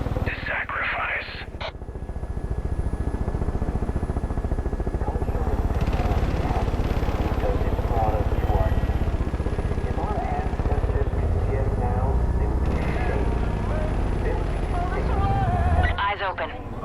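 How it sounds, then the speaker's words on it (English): Helicopters fly nearby in the video game Far Cry 5, a steady rotor drone under game dialogue that holds at a constant loudness throughout. "There's choppers in the area."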